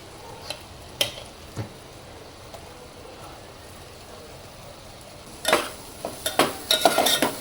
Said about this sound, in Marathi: चांगलं यामध्ये एकत्र मिक्स करून घ्यायचं आहे